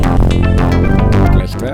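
J-8 synth plugin running on Linux, a dense, loud, buzzy synthesizer passage with layered sustained tones and quick rhythmic articulations, fading slightly at the end.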